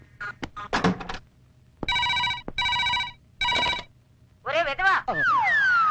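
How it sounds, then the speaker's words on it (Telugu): A telephone rings in a domestic scene from a Telugu comedy film: three loud, bright ring bursts in quick succession, with voices talking before and after the ringing. "అంకుల్ మీకే ఫోన్."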